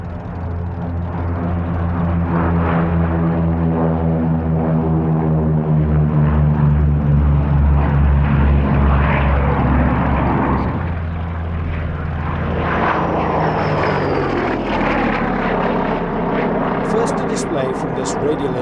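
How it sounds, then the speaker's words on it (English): A formation of vintage radial-engine aircraft flies past at a Duxford airshow, the loud droning propeller engines swelling and shifting in pitch as they pass, staying strong throughout. "Another flypast from this unique formation"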